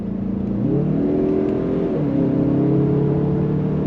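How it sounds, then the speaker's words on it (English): A 2023 Mazda CX-30 Turbo AWD pulls away from a standstill under throttle, its engine rising steadily in pitch, dropping briefly at a paddle-shifted gear change, then climbing again, loud and close with no talk. "I'm gonna come to a complete stop real quick, and then we're gonna go on throttle"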